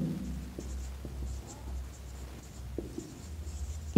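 Chalk or marker strokes on a board during a Bengali-language class 11 maths lesson on quadratic equations, soft scratching taps at close range over a low room hum.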